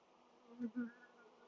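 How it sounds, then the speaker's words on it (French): A cluster of honeybees buzzing on a hand, a faint steady drone that swells in two brief louder surges near the middle. "Je prends une petite boule d'abeille."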